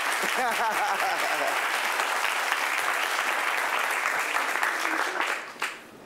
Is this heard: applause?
yes